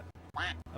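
A voice imitates duck quacking, like the crowd chant at the end of the Mighty Ducks movie. A close, loud, drawn-out quack sits between a few short, clipped bursts, with no other sound around it.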